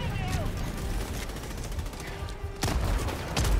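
Enemy turret gunfire in the video game Helldivers 2, rapid bursts of shots and impacts rattling over a noisy battle mix at moderate loudness.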